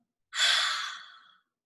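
A single long, deep breath drawn in, airy and close, swelling quickly then tapering off over about a second.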